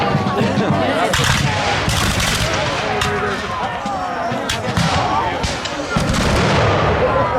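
Reproduction 18th-century line-of-sight artillery cannons fire at a Revolutionary War reenactment at Mount Vernon: sharp booms and crackling bursts recur irregularly at a distance, mixed with a busy outdoor crowd and someone talking throughout.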